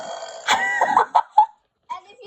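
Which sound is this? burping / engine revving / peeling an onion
burping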